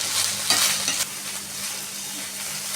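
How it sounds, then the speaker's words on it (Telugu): Drumstick leaves stirred and frying in hot oil in a pan give a steady, close sizzle with soft scraping stir strokes, and no one speaks. "ఈ పచ్చివాసన పోయేంత వరకు కలుపుతూ ఉండాలి"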